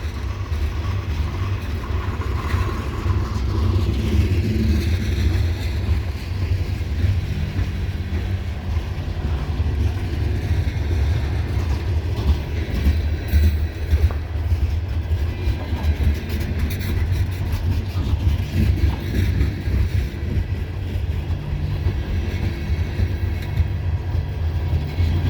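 A loaded CSX coal train rolls along the old B&O mainline in a snowstorm, giving a steady, close, continuous rumble of wheels and cars with no talking.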